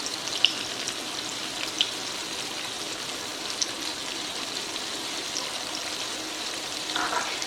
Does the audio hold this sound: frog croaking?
no